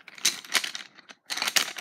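Coloured pencils in a pencil case clatter and rattle in quick bursts of light wooden clicks, two clusters split by a short pause, close and fairly loud.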